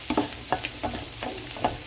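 Carrots for fried rice stir-fry in a hot pan, a steady soft sizzle with rhythmic scrapes and clinks of a spatula stirring them, close and alone without talk.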